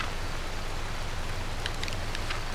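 Steady rain falling in the survival game H1Z1, a constant soft hiss of drops with a few brighter patters near the end, loud and uninterrupted with no talking.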